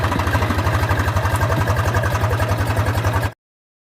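A tractor engine, either a Mahindra 415 DI or a Swaraj 735 XT, chugs in a steady, rapid rhythm up close while stuck in a field, then stops abruptly.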